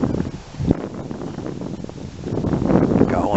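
Wind buffets and rumbles against the microphone outdoors in gusty, uneven waves, loud and close, with rustling and a swell toward the end.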